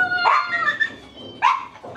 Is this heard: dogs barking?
yes